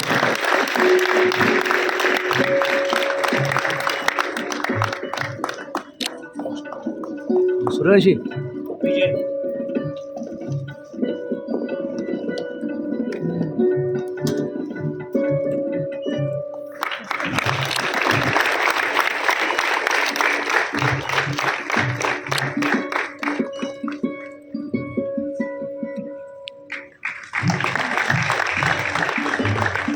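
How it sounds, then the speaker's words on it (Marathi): Audience applause at a Marathi theatre lifetime-achievement award ceremony honouring veteran actor Mohan Joshi. A loud, dense burst of clapping fills the room, fades behind a speaking voice and music, then surges back twice more. "अण्णांसाठी सुद्धा एकदा जोरदार टाळ्या झाल्या पाहिजेत"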